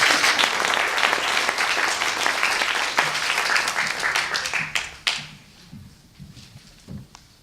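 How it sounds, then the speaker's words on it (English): Loud, dense applause from a large crowd at a science-talk competition final for about five seconds, then it quickly dies down to a few scattered claps. "give another huge round of applause for Jan Kalina."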